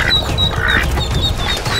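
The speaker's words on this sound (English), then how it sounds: "There's obviously a massive territorial battle going on." Ducks quack loudly in a territorial fight, with a mother duck defending her ducklings. The calls are close and repeated, and they sound harsh over steady, busy background noise.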